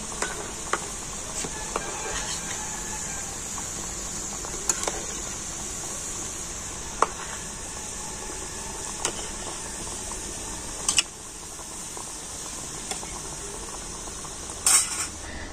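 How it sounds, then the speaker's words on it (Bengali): Snacks frying in a pan over low heat as they are turned, giving a steady, soft hiss throughout with occasional light clicks and taps. "আর এখন আমি এরকম হালকা জাল দিয়ে আর উল্টে পাল্টে নাস্তাগুলো খুব সুন্দর লাল করে ভেজে নেব।"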